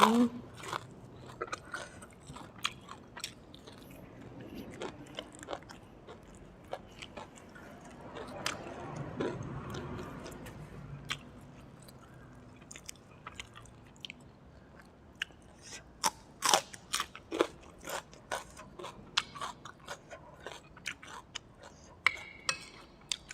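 Someone eats crunchy fried chicken with spicy Thai papaya-style salad, grilled pork and sticky rice, producing repeated close crunches and chewing clicks, with occasional speech in between.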